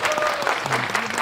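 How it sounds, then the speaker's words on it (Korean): Cinema audience at a stage greeting for the film 12.12: The Day, held in a Lotte Cinema auditorium in Seoul, applauds together; dense, steady clapping fills the short stretch from start to end. "우리 전두광 황정민 배우를 위해서 박수 한번 쳐주시고"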